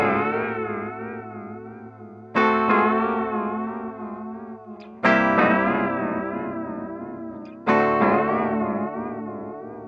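A guitar runs through a Pigtronix Echolution 2 echo pedal with its LFO synced to MIDI clock, four sustained strummed chords struck at even intervals, each decaying with a wavering modulated shimmer, close and alone.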